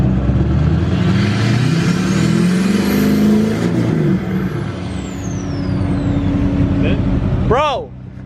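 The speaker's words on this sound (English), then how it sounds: "your turbo's loud, bro, not your exhaust, dude. All you hear is turbo." Mazda Miata with a turbocharged engine and custom exhaust revs loudly and continuously nearby, its pitch rising and falling as it accelerates, ending in a sharp whistling chirp; people talk and shout over it.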